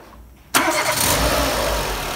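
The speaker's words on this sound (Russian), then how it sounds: "запуск двигателя" A 2006 Renault Clio II with a 1.4 L K4J712 petrol engine fires up after a quiet pause, catching abruptly and settling straight into a steady, close idle hum.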